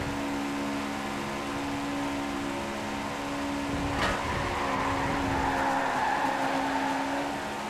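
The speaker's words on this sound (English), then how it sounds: "Nice drift there, nice corner." A 2016 Subaru rally car in Forza Horizon 4 drifts through a corner, its engine droning steadily while tires scrub and hiss through the slide, with a brief sharp burst midway.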